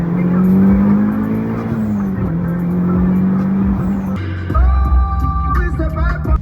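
A tuned car accelerates hard on low boost, its loud engine droning and climbing steadily before a gear change, then pulling again close by.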